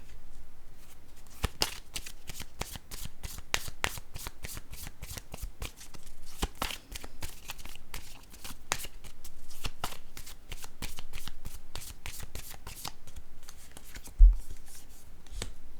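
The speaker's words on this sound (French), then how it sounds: "à moins que je pige une autre carte" Tarot cards being shuffled steadily for a long stretch, a close, rapid run of crisp riffling snaps and slides with no voices over it.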